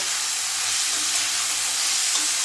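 Shredded cabbage mixed into oats pulao frying in a pan, a dense, steady sizzle and hiss close up, with faint stirring and no talking.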